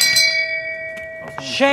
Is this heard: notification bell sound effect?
yes